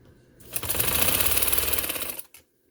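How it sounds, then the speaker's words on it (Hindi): A sewing machine runs in one steady, fast burst of stitching for about two seconds, loud and close, attaching lace to a shirt neckline, then stops. "और यहाँ मैं सिलाई लगाती हूँ, पक्का कर लेंगे थोड़ा सा।"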